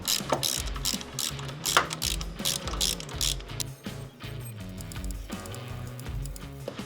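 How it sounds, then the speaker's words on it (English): A thread tap chases bolt holes on a Harley Fat Bob to clear old Loctite, turned with a ratcheting handle that clicks in repeated bursts, close and moderately loud, with metallic creaks between strokes. "we're just going to chase these holes out, make sure there's no Loctite hanging up in it"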